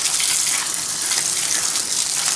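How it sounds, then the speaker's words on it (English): Hot water spraying onto an engine during cleaning, a loud, steady hissing rush that continues without a break for the whole stretch, with no voices over it. "This is hot water"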